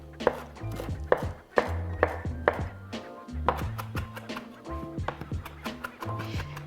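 Italian parsley being chopped with a knife on a cutting board, a steady run of sharp, close knocks in uneven bursts, with faint talk underneath.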